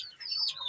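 Purebred chickens in a poultry pen, Appenzeller Spitzhauben among the breeds, give brief nearby clucks and squawks in a short burst with no talking.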